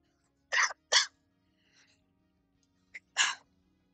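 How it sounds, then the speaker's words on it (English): Several sharp, close coughs: two quick ones in a row, then a pause, a small catch, and another cough. "I'm ah, sorry, guys. Sorry for the cough."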